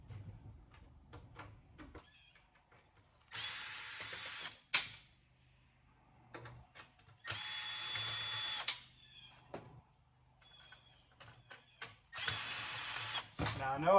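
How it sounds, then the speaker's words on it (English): A power drill runs in three separate bursts, each a second or two long, backing screws out of a computer motherboard while scrapping a PC, with clicks and handling noise between the bursts. "Take the screws out of this motherboard."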